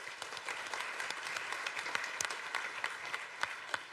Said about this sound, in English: A big applause, ladies and gentlemen.